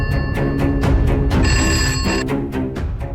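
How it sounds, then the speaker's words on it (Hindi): A landline telephone rings at home in steady repeated bursts of bell tone over a busy, dense background. "मैंने घर के लैंडलाइन पर फोन किया।"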